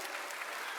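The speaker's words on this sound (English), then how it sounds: "Keep clapping for these men and women" A dense wash of steady applause from an audience honoring military veterans at a Veterans Day program, continuous and full with no individual claps standing out.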